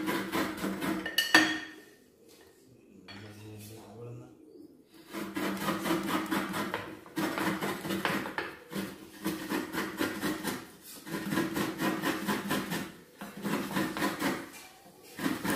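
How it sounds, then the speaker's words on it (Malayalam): Fresh coconut is grated by hand in a steady run of rasping scrapes, near and fairly loud, after a short quiet pause near the start, with no talking. "ഞാൻ ചിരകാൻ തന്നെ തീരുമാനിച്ചത്"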